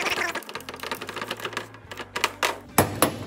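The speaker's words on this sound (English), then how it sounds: "this is a particular type of ratchet that has a opening in the middle for another ratchet" A ratchet wrench used while reassembling an alternator clicks in rapid, uneven bursts of sharp metallic ticks, close and fairly crisp, with no talk.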